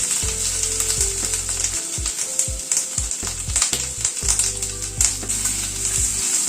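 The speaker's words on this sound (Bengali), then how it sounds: "এই ক্যাপসিকাম আর পেঁয়াজটাকে হালকা একটু টস করে নেব।" Capsicum and onion tossed in a frying pan with oil, crackling with a steady sizzle while the pan is shaken and stirred in quick bursts, close up, with no voices.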